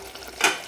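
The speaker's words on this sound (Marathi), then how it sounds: "मसाला एकदम छान फ्राय झालेला आहे" Masala for an egg curry fries in a pan, heard as a single brief stir-and-sizzle burst, close by, over a low background.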